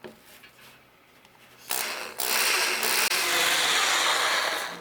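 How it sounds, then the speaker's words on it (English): A drill bores a hole into a wooden mast for fittings on a rotating divisible mast, starting with faint handling and then a loud, steady, close-up whirring grind that runs without a break to the end, with no speech. "Also here I drill from both sides to get a smooth entry hole."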